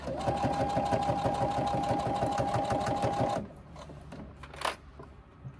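A sewing machine runs steadily for about three seconds, stitching the lining and outer layers of a crossbody bag together, then stops, leaving a quiet room with a few faint handling sounds.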